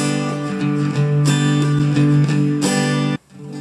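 Acoustic guitar strummed without any muting for a Hindi song lesson, chords ringing fully into one another at close range, then cutting off abruptly near the end; no voices.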